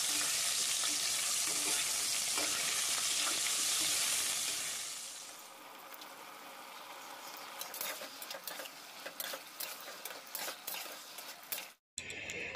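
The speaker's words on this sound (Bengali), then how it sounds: "তো আলু পটল দিয়ে একটা তরকারি হচ্ছে" Potato and pointed gourd curry sizzles in a pan, loud steady frying at first, then softening to quieter bubbling with scattered stirring scrapes and clinks of a utensil.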